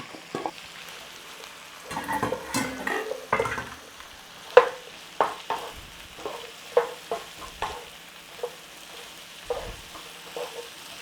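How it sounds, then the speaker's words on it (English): Mushrooms, onions and garlic sauté in a butter mixture in a pan, a soft sizzle broken by irregular scrapes and stirring knocks, close and fairly quiet. "Just start to soften the mushrooms down in there in that butter mixture with the onions and garlic."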